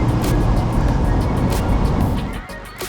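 A Mark III Mazda MX-5 drives along a country road, its engine and road noise a steady close drone that eases off near the end.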